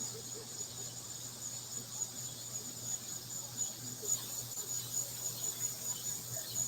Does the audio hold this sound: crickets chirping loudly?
yes